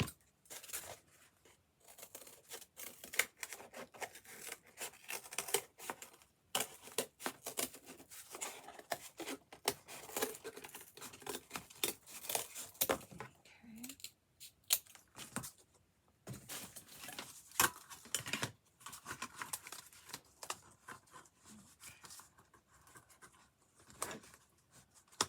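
Scissors cutting out a cardboard template for a wreath-form birdcage craft, with close, irregular snips and crunchy scraping strokes that come in bursts and brief pauses.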